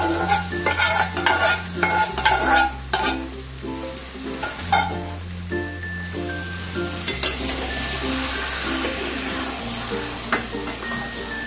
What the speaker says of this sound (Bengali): ডালটাকে দিয়ে আমি ভালো করে সব কিছুর সাথে নাড়াচাড়া করবো